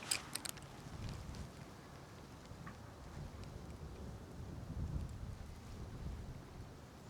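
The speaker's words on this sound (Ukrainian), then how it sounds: "Якийсь такий вітер холодний осінній." Cold autumn wind blows outdoors on a lake, a low steady rumble buffeting the microphone throughout, with a few faint clicks near the start.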